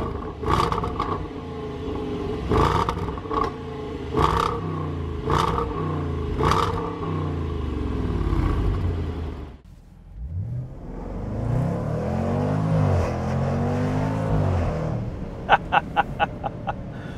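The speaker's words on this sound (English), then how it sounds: "a 5-liter supercharged V8 making 550 horsepower, and wow, does it sound good" A Jaguar F-Pace SVR with a supercharged 5-liter V8 revs hard several times in sharp bursts, falls quiet briefly, then roars through a long climbing acceleration before a few quick crackling pops at the end.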